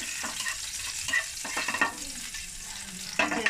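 Chopped garlic sautéing in hot oil for spring roll filling, a steady bright sizzle with a few louder stirring scrapes, close and alone.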